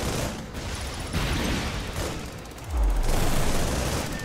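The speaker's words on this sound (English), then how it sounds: "I think I might have just hit myself with my own missile" A missile explosion in the Project Nimbus video game, a deep boom with a heavy low rumble that follows bursts of rapid gunfire in a loud, busy battle mix.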